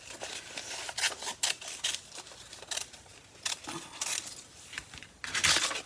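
Scissors snipping through a paper stencil for a ceramic pottery trivet project, a series of short crisp cuts and paper rustles at close range, with irregular pauses between snips and no talking.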